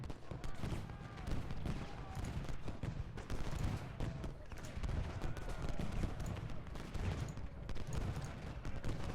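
Union troops firing in the Civil War strategy game Ultimate General: Gettysburg, with continuous massed musket fusillades crackling and rumbling without a break, and a voice faintly underneath.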